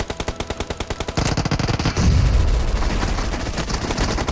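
Rapid automatic gunfire from a Scorpion in BGMI, a 4v4 team deathmatch in a warehouse map: steady fast bursts that swell into dense, overlapping fire with heavy low booms, loud and continuous throughout.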